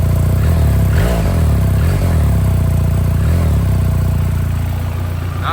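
A 2024 BMW R 1300 GS motorcycle engine runs steadily and loud throughout, with a few throttle blips swelling over a constant rumble and no talking.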